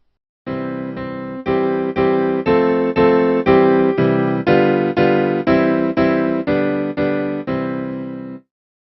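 Twinkle Twinkle Little Star played in steady, evenly spaced notes, swelling gradually louder toward the middle, then easing back down before stopping.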